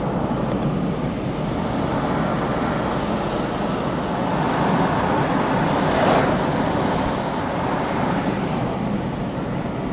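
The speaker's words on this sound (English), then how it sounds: "Looks like we got a swell coming in. That blue water is all the way up on shore." Ocean swell rolling up onto shore, a continuous broad wash of surf mixed with wind noise on the microphone, steady and loud with no talking.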